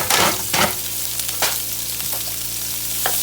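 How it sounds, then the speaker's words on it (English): Peppers and onions for pepper steak fry in a pan, a steady close sizzle broken by a few clattering stirs, loudest at the start, with no voices. "So right now I'm going to cook my peppers and my gravy."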